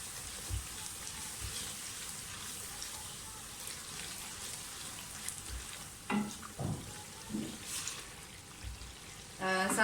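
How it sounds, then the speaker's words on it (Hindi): Ground spices frying with whole moong dal in a pan, a faint low sizzle with a few soft stirring scrapes and knocks later on, fairly quiet throughout. "सारा कुछ अच्छी तरह से भून जाए तो साथ ही पिसे हुए मसाले डाल दें। अच्छी तरह से भुनाई कर लें।"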